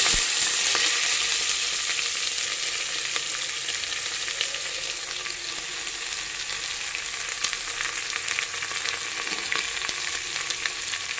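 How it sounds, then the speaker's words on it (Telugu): Sliced onions for mutton keema biryani fry in a pan with a steady, close sizzle, a continuous hissing crackle with occasional stirring scrapes. "ఉల్లిపాయలు కొంచెం వేగనిచ్చుకోవాలి"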